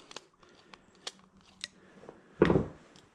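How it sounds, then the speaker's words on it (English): Small metallic clicks and ticks while loosening a part on a golf cart carburetor with a hand tool, a few sharp light taps followed by one louder rattling scrape, close and alone in a quiet room. "So I'm loosening this off here."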